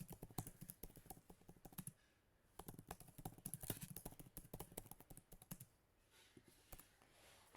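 Quick bursts of typing on a computer keyboard, close and clear, with irregular key clicks coming in clusters and a brief pause near the middle; no one speaks.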